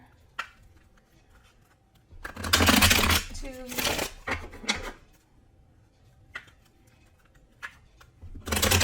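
Tarot cards are shuffled in a few quick riffling bursts near the microphone, with soft rubbing and tapping between, while a voice counts quietly.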